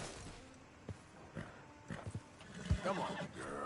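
Horse whinnies in Red Dead Redemption II, a brief sharp neigh near the end with a few hoof clops earlier, alongside game ambience and faint talk.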